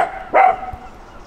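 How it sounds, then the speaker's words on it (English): One sharp dog bark sounds nearby, standing out over a steady low hum and faint room noise. "Pen, what are you barking at?"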